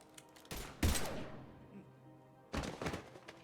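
Gunfire in Mass Effect 3 comes as heavy booming bursts, one volley just after the start and another near the end, each followed by a decaying rumble.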